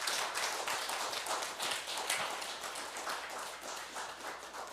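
Crowd applause at the installation ceremony of a new chairman of a Buddhist Zen foundation: steady, moderately distant clapping from a gathered audience, sustained without pause and slowly thinning out.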